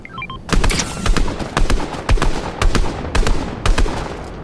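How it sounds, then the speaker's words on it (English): Gunfire in Fortnite pops in short rapid bursts, roughly a dozen sharp loud shots in uneven clusters, after a few faint electronic game tones at the start. "I hear bullets, they are not on the same team."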